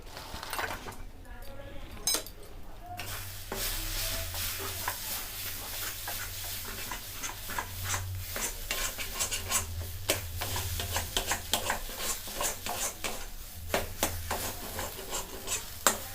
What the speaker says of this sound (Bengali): আমাদের ঠিক মিশ্রণটা ঠিক ভাজা হয়ে গেছে, দেখুন কড়া থেকে ঠিক ছেড়ে যাচ্ছে